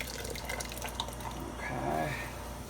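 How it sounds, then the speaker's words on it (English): Water dumped out of jars in a vintage kitchen while making passata di pomodoro, a soft trickling and splashing pour into a sink, fairly quiet and close, swelling briefly toward the end. "we're gonna dump out the water"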